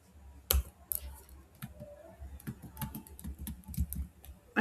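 Typing on a computer keyboard while entering a heading in an Excel attendance sheet: soft, close key clicks in an irregular stream of taps with a few sharper strikes, quiet and without talk.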